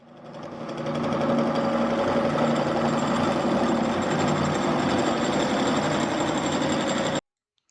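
A loud, shaky mechanical drone from a World War II era drill press running steadily, with rattling vibration throughout, cutting off abruptly at the end.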